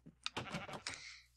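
A sheep in a farm-building video game gives one short, clear, wavering bleat, close and alone against quiet game ambience.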